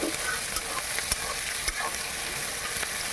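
Chicken chaap pieces browning with garlic in a pan: a constant crackling sizzle, with sporadic spatula scrapes and taps as the food is stirred.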